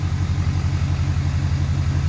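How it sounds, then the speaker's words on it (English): A 2017 Ford F-250 pickup engine idles right after a remote start, a steady, close, deep rumble with an even pulsing throb and no talk. "Truck will fire up."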